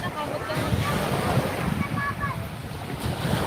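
Ocean waves wash continuously onto a beach on an afternoon, mixed with buffeting wind noise on the microphone, steady and fairly loud throughout.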